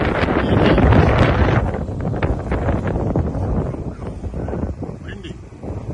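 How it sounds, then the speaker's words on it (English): Gusty wind buffets the microphone outdoors on a snowy day beside a 1966 Plymouth car, a loud rough rumble that is strongest at the start and then eases into a steadier, lower roar. "Windy."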